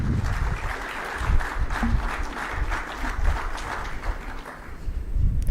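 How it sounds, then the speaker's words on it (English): A large crowd claps steadily and continuously, loud and sustained without a break. "Please welcome again with a big round of applause."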